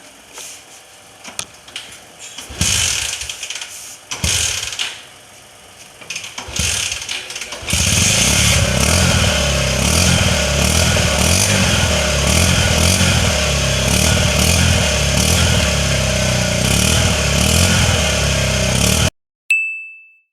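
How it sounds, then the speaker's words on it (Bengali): A 2021 Bajaj Pulsar 150 single-disc motorcycle runs with a steady, loud exhaust drone close by, after a quieter, patchy opening with scattered clicks; the engine note holds continuously to the end, then cuts off abruptly. "এটা হচ্ছে সিঙ্গেল ডিস্ক, এটার এক্সজস্টের যে নোট এটা একটু শোনা যাক।"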